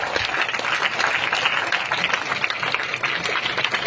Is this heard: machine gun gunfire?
no